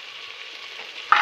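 Steady frying sizzle of garlic and onion browned in a pan, then a sharp louder hiss as two large tomatoes hit the hot oil near the end.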